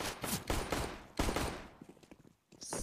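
Rapid gunfire bursts crackle from a Counter-Strike style shooter, several volleys in quick succession with a short lull near the end, loud and close.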